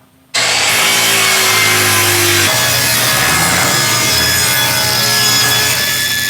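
Hickory boards being sawn to rough size with a power saw, a loud continuous cutting roar that starts abruptly and runs steadily to the end, its whine shifting as the blade bites through the wood.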